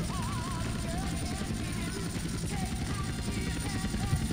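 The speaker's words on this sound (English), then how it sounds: "Oh, you're in a helicopter." A helicopter in Grand Theft Auto: San Andreas multiplayer gives a steady, loud rotor drone with a whirring engine tone that runs the whole time, while players talk over it.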